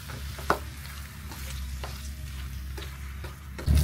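Chicken stir-fries in a pan with a steady, close sizzle, punctuated by occasional scraping and clinking as the pieces are stirred, with no talking.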